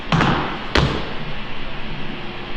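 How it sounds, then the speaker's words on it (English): A foot stomps out a fencing footwork rhythm on a hard floor: a quick double thud, then a single heavier stomp, close and punchy with room noise after. "I'm going to stomp so you can hear it."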